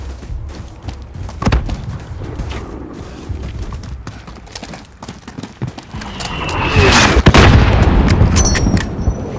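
Enemy gunfire in a Call of Duty Modern Warfare campaign mission cracks in scattered single shots and bursts amid rumbling battle noise, building louder and denser toward the end, with heavy booms close by.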